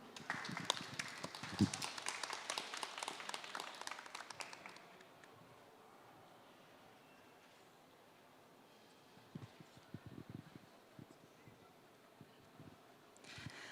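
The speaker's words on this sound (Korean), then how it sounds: "큰 박수 부탁드립니다" An audience at the 2025 Jeju Forum youth session applauds as speakers come on stage; brisk clapping lasts about four seconds, then the hall falls quiet apart from faint scattered taps and shuffling.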